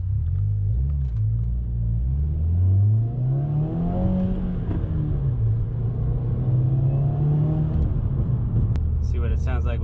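A 2020 Subaru WRX with an Invidia R400 catback exhaust driving, a deep close rumble rising and falling as the engine revs under acceleration, with a person talking over it near the end.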